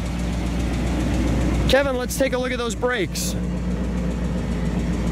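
A 1965 AMC Rambler Marlin with single exhaust idles with a low, steady rumble close by while someone speaks briefly over it.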